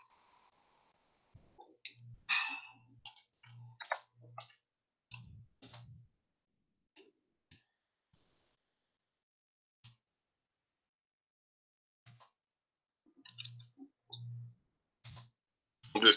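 Keyboard typing comes as scattered bursts of soft, close clicks separated by long quiet gaps, with a faint low thump accompanying some keystrokes.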